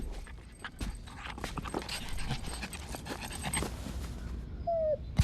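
A puppy pants rapidly and steadily up close, with quick breathy huffs and light scuffling, then a brief high whine near the end.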